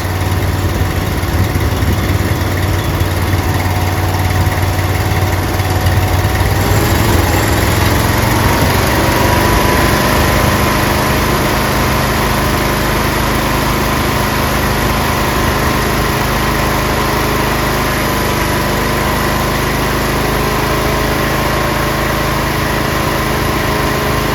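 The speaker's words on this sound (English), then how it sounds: "Unload test, increase RPM to 3000 and keep it to 10 seconds." A car engine runs for an alternator unload test and is held at about 3000 RPM. The loud, steady drone shifts slightly in tone partway through, then holds at a constant pitch for the rest of the clip, with no talk.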